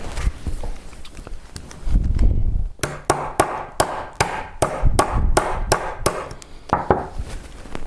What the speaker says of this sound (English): Now I did use the nylon head of my hammer to tap it the rest of the way in